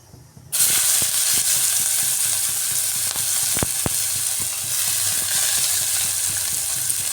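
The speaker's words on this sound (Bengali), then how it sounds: "এই ডিম ভাজার তেলের মধ্যে আমি দিয়ে দিচ্ছি কুচিয়ে রাখা পেঁয়াজ।" Chopped onion goes into hot oil left over from frying eggs, which bursts into a loud, steady sizzle, joined by occasional sharp clicks of a spoon or spatula against the pan.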